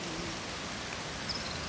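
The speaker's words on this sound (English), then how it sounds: "Every drop of rain that's falling on us now is from you" Rain falls outdoors during a wedding, a soft, even hiss of drops that holds steady throughout, faint and unbroken, with no voices over it.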